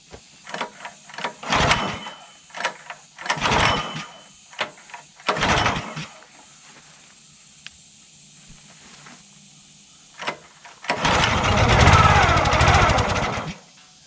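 Small gasoline engine that had sat unused for months being pull-started, with several separate rasping pull bursts before it catches and runs loudly near the end.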